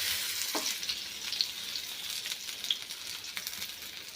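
Taro leaf rolls (aluvadi) fry in a pan, a steady close sizzle with bright crackling pops and an occasional soft stir, with no voices.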